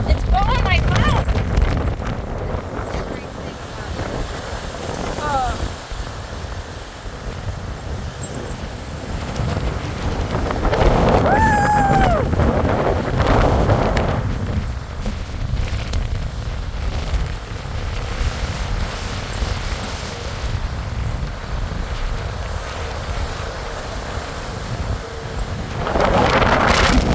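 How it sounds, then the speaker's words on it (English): Strong gusting wind buffets the microphone on a Lake Erie pier, a loud continuous roar with rumbling surges, while people talk excitedly over it. "Holy shit, it's so windy."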